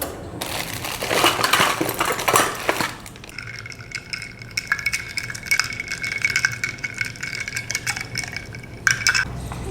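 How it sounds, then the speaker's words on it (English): Spoon stirring iced coffee in a glass, a loud burst of clinking ice in the first few seconds followed by lighter metallic taps and rattles against the glass, close up with no talking. "let me just stir it a little bit."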